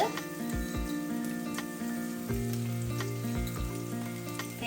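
Mustard seeds crackle and sizzle steadily in hot oil while a Sri Lankan egg curry is being cooked, with a continuous frying hiss and faint popping. Background music plays underneath.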